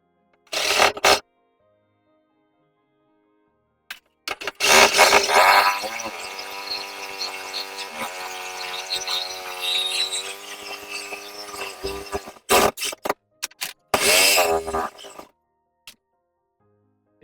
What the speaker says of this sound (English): It suddenly crossed my mind as I held the saw up to the pipe that I could just cut it